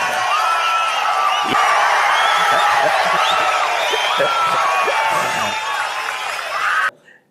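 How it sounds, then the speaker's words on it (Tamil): A large political rally crowd in Tamil Nadu cheering and yelling, a loud continuous roar of many voices with whoops rising over it, holding steady for about seven seconds before cutting off abruptly. "கைதட்டல் வந்து அடி காதை கிழிக்கிற அளவு கைதட்டுறாங்க எல்லாம் உயிரை கொடுத்து கத்துறாங்க"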